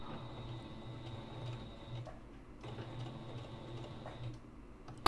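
A sewing machine runs while lock stitching the corner of a fabric mask, a soft rapid mechanical ticking and whirring that pauses briefly midway, then resumes and ends with a small clunk.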